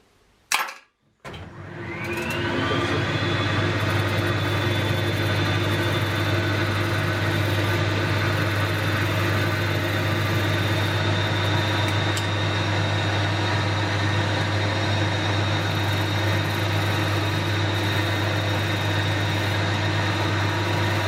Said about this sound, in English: I'm just going to put a little wire brush in my lathe chuck and just give them a bit of a spin on the lathe